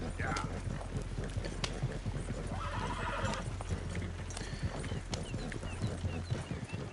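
Horse in the video game Red Dead Redemption 2, hooves clip-clopping in a steady rhythm with a neighing whinny partway through, heard under someone talking.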